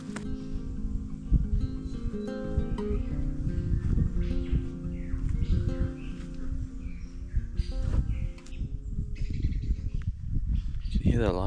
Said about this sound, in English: You can hear that lyrebird's call so close.